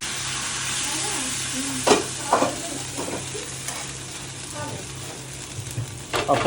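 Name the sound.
dosa batter with rice and onion sizzling in pan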